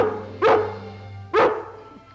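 A dog in an old cartoon barks twice, about a second apart, each bark sharp and close over a steady background hum.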